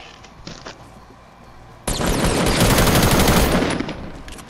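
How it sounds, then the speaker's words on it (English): Sustained automatic gunfire in the Fortnite video game, a dense loud burst of rapid shots lasting a couple of seconds after quieter background game noise. "Someone's shooting at you."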